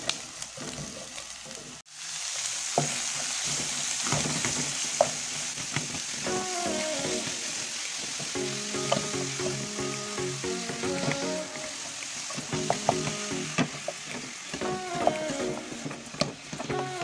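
Ground beef frying in a pan with browned onion for a cassava escondidinho: a continuous close sizzle with stirring scrapes, growing busier and more crackly as the cooking goes on, with no talking.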